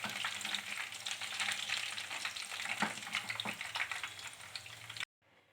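Fish frying in a hot pan, a steady close sizzle with crackling spatter lasting about five seconds before cutting off abruptly.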